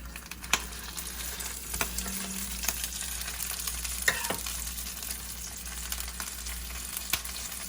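Birria taquitos fry in hot oil with a continuous crackling sizzle, steady and close, marked by occasional sharper pops and spatters, with no talking over it.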